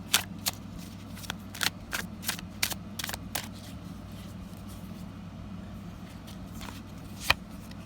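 Tarot cards riffled in a series of sharp, crisp bursts, a cluster in the first few seconds and one more near the end, over a steady low hum.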